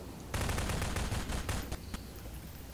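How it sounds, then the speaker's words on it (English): Rapid automatic gunfire in Garry's Mod as shots pepper the walls, a dense burst of cracks lasting over a second, then a few scattered single shots trailing off. "I'm about to shoot every wall possible."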